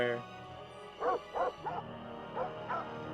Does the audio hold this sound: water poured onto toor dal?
no